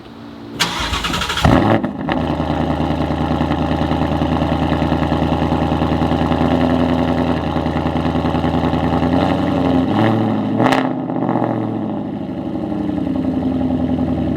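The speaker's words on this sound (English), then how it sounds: "the first mod I did when I bought the car earlier this year was get a Roush catback exhaust, which sounds insane." Ford Mustang with a Roush catback exhaust cranks briefly, fires with a sharp bark, then settles into a loud, deep, steady idle, with a quick throttle blip near the ten-second mark before rumbling on.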